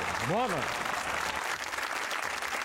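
Audience applause at a Hindi-Urdu poetry recital, a dense steady wash of clapping that fills the whole stretch, with a short rising-and-falling vocal exclamation near the start.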